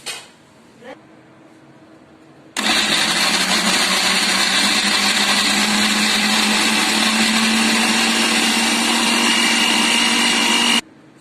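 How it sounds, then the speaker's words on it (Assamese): A kitchen mixer grinder switches on after a few quiet moments with small handling clicks. It whirs loudly and steadily as it blends food for about eight seconds, then cuts off abruptly. "মিক্সিটোত পকাই দিম এতিয়া আমি চুইচটো দি দিম"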